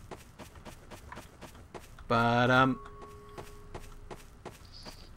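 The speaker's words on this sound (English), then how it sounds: "I have to find her footsteps now, though." Footsteps in a murder mystery game, a steady series of quick, evenly spaced steps moving throughout, with a short burst of voice breaking in briefly partway through.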